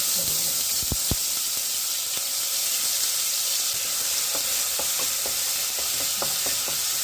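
Ginger and garlic sizzle steadily in hot oil in a home kitchen pan, a continuous close hiss with scattered sharp clicks of a spoon stirring against the pan.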